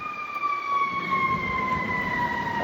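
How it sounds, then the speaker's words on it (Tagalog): A fire truck siren holds steady, high wailing tones over a constant rumble of road noise, sounding continuously at moderate distance with no talking. "Ay, fire truck pala yun."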